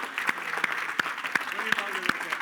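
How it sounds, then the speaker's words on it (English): A small group at a training session claps in sparse, separate bursts, roughly six distinct claps spaced about a third of a second apart, with faint voices underneath. "Give them a big round of applause."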